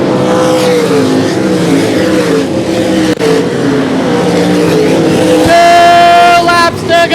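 Race cars lapping a short track at 281 Speedway, engines roaring loudly as they pass close by, pitch sweeping up and down with a sharp, high-revving car rising in the final seconds.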